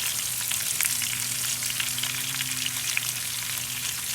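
Skirt steak with peppers and onions sears on a Big Green Egg grill, giving a steady, loud, close sizzle that holds without a break and with no voices.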